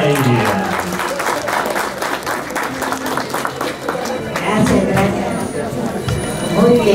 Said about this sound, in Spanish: Fuerte las palmas para ella.